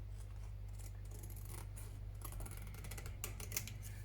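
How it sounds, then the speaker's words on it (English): Scissors trim the uneven edges of an assembled papercraft pocket for a postcard pocket book, giving soft close snips and paper rustles over a steady low hum, with no voices. "So just trim it now that it's together, okay?"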